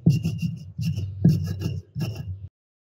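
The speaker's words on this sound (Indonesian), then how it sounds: "Tekan ulakan dengan kuat dan gerakan secara melingkar untuk menghaluskan bumbu secara merata." Spices are ground in a stone mortar and pestle (ulekan), pressed hard in circular strokes. It makes four close, rhythmic rasping scrapes of stone on stone, with a brief pause between strokes, before it stops.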